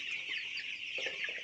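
Broiler chickens on a poultry farm cluck while feeding, a soft, faint chorus of short, overlapping clucks with no voices.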